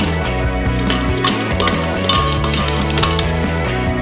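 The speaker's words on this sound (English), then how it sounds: "First of all, we drop some ice cubes into it." Ice cubes drop into a blender with bright clinks and rattles that land close and clear over steady background music.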